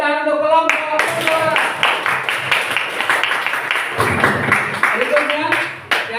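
Classroom audience clapping for a group after its presentation, a short burst of distinct, fairly close hand claps over several seconds, with voices speaking alongside at the start.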